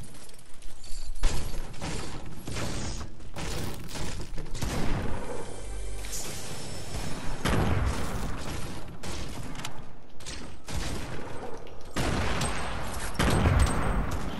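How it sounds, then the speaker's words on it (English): Rapid sustained bursts of light machine gun (LMG) fire in the video game Fortnite, loud and close, with a few short breaks and mechanical clatter between volleys. "that's an LMG"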